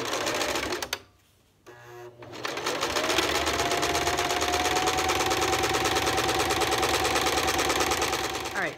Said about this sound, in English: I'm just top stitching this seam and then I'm gonna top stitch that seam.